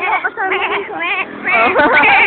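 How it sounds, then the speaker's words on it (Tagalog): A goat bleats in loud, close, quavering calls, several in a row. "Video mo yung kambing"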